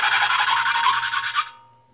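Small engine valves being lapped by hand against their seats, a steady scraping, grinding rub with a quick back-and-forth rhythm, close and fairly loud, that stops abruptly near the end.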